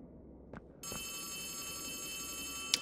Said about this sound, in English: Oh, where's the phone?